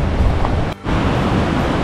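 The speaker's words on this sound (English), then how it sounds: "Oh, look at the waves! The waves are pumping." Ocean surf on a Maldives reef: a loud, steady wash of breaking waves mixed with wind buffeting the microphone, with a brief dip in the roar near the middle.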